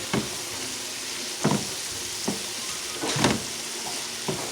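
Pork chops sauté in a pan with a steady, fairly quiet sizzle, broken by a few sharp clinks and knocks from utensils or dishes nearby.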